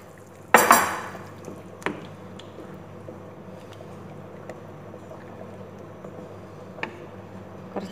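A spoon clatters sharply once against a pot as cooked dal, boiled with turmeric, is mixed into Udupi temple-style sambar, followed by faint soft stirring and a few small clinks.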